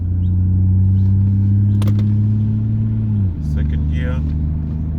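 A Toyota Supra Mk3 3.0 accelerates under a loud, steady engine drone from inside the car, which dips briefly at a gear change and then settles into a new tone.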